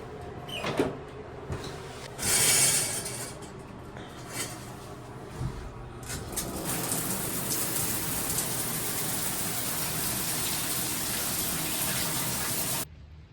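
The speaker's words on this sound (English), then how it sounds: "Hopefully it's a nice hot shower." Running water from a campground shower hisses steadily and fairly close, starting after a few scattered knocks and clatters, then pouring continuously until it cuts off abruptly near the end.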